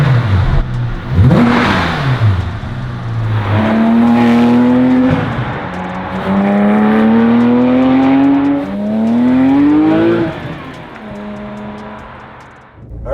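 A 2007 Porsche 911 GT3 RS drives along as its engine climbs steadily through several gears. Each rising whine ends in a short dip at the shift. The interior drone is loud and constant, and no one speaks.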